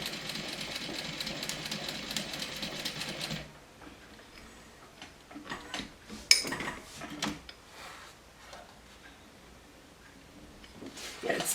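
A home sewing machine stitching through eight layers of cork: a steady mechanical whirring hum that stops abruptly, followed by scattered clicks, knocks and handling thumps at low volume.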